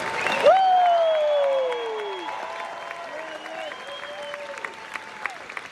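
Crowd applause at a red carpet premiere screening of The Mandalorian season three, honoring episode director Rick Famuyiwa; a broad wash of clapping swells at the start and then carries on more softly under cheering voices.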